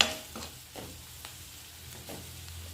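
Masala with garam masala frying for a tomato gravy, heard as a low sizzle broken by several scraping spoon strokes against the pan, fairly quiet and close.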